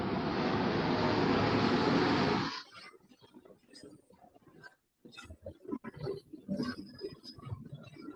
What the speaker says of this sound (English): Airport is very close here, and that is why these planes are making too much of sound.